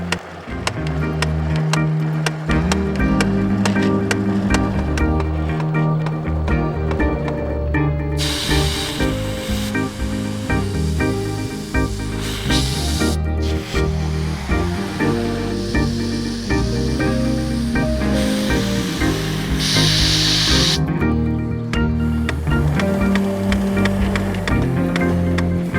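Steady, loud hiss of water spraying from a Fiskars Waterwheel XL garden hose reel, continuous throughout with tonal background sound and no talking.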